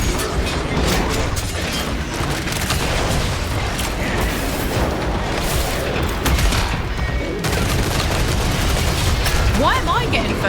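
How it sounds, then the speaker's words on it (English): Dense, continuous gunfire and booming blasts from the video game Killing Floor 3, a loud unbroken barrage of shots and impacts, with talk breaking in over the din. "I think we need to shoot those things."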